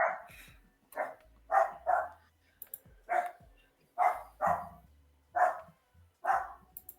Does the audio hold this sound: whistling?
no